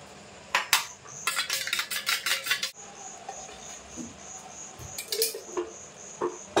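Eggs are cracked into a bowl and beaten for a Kolkata-style egg roll, giving a quick burst of rapid, close metallic clinks and taps of utensil against the bowl, followed by a quieter stretch with scattered knocks.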